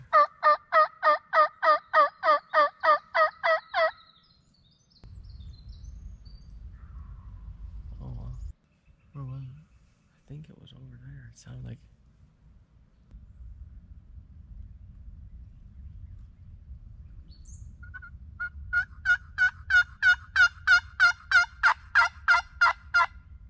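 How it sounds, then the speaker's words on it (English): A wild turkey gobbles during opening-day spring turkey season in New York, with rapid rattling gobble bursts at the start and again near the end, fairly close and clear, separated by quiet outdoor rustling and handling noise. "the gobble started getting louder."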